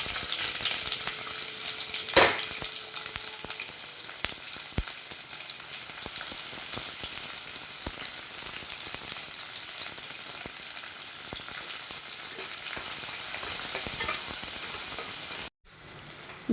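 Small onions fry and sizzle in a pan while being stirred for paneer biryani, a loud, continuous crackling hiss with light scraping of the spoon throughout, cutting off abruptly just before the end.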